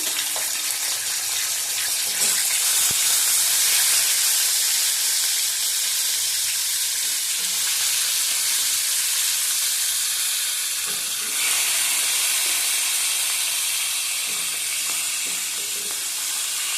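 Fish sizzles steadily in hot oil in a wok, a loud continuous broadband hiss with occasional crackles and a few soft clatters, with no voices.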